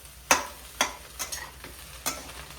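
Egg frying in a pan for egg rice, heard as a few sharp stirring scrapes and sizzling bursts spaced irregularly, fairly close and moderately quiet, with no talking.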